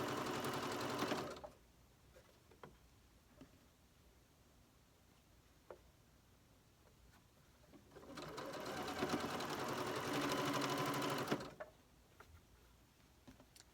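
A sewing machine stitches quilt pieces for a flying geese block, running in two close steady whirring bursts, short then longer, separated by quiet with faint clicks of handling.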